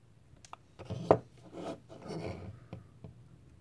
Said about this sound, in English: I'm just getting the wick down in the channels, kind of bunching it up into the channels